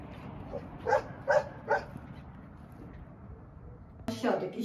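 A dog barks three times in quick succession at moderate distance, with a fainter yelp just before and a louder burst near the end over a low rumble of background noise.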